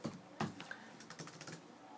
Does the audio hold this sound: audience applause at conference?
no